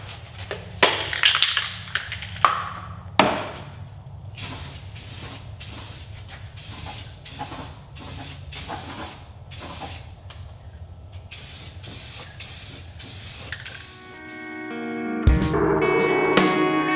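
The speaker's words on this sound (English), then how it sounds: "I'm gonna start spray painting" Spray paint bursts hiss in a series of short, evenly spaced sprays, close by, painting a car engine bay, followed by a clattering rattle near the end.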